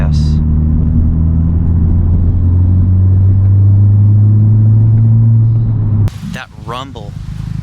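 2021 Honda Civic Type R with a MAPerformance street exhaust, a deep steady idle rumble loud and close for about six seconds, then cut off as a voice comes in briefly.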